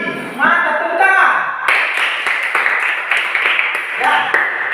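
Children in an elementary school classroom clap together during a poetry lesson, a brisk burst of hand claps mixed with young voices chattering over it.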